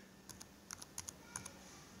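A computer keyboard is typed on in short sparse bursts of crisp clicks, pairs and small clusters of keystrokes over a quiet room.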